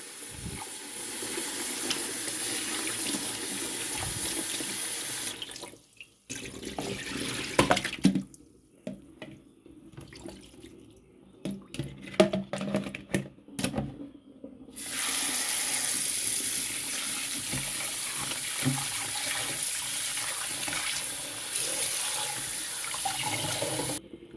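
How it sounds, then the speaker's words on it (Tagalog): Water runs steadily from a tap with a gushing hiss, broken midway by several seconds of splashing and handling as pork is rinsed, then the steady flow resumes. "Hugasan po natin yung karne ng baboy at i-blanch natin"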